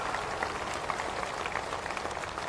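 A large crowd at a Lok Sabha election rally in Udgir claps loudly and continuously, a dense, even wash of applause heard from within the audience.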